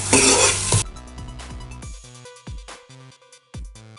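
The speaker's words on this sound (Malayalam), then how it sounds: "1 സ്പൂൺ കുരുമുളക് പൊടി ഇടുക. നന്നായിട്ട് ഇളക്കുക." Soya chunks fry with pepper powder while being stirred, opening with a loud burst of sizzling, then quieter scrapes and knocks of the spoon against the pan in short, uneven bursts.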